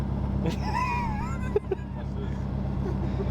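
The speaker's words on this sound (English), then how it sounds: "I think the car's too loud for you to hear." A steady low engine drone inside a Subaru WRX GD, constant and fairly loud, with a couple of brief clicks and faint whistling tones above it.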